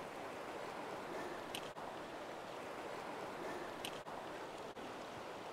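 The Giffre river in the Sixt Fer à Cheval valley, crossed on a footbridge. Its water rushes in a steady, broadband roar, close and unbroken, with only a few faint clicks and no talking.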